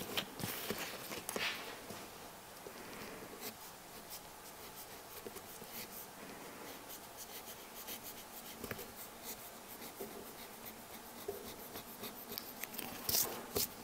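A skiving knife shaving thin strips from the edges of leather wallet pieces: soft, close, repeated scraping and rubbing strokes in an irregular rhythm, quiet and without talk.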